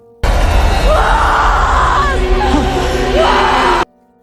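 A man bellows loudly outside a house in a film scene, one long strained yell that rises and cracks over about three and a half seconds, close and forceful.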